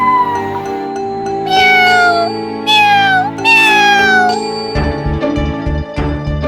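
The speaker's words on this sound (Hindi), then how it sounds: "नन्ही बिल्ली अलमारी के ऊपर चढ़ी हुई थी और वो रो रही थी" A kitten cries out in a series of high, drawn-out meows, loud and close, over sustained musical tones and a soft chiming.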